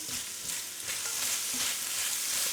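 Seafood pasta sizzles and fries loudly in a very hot pan on high heat for Christmas, with a continuous hiss and crackle that sounds close to the mic and carries no talk.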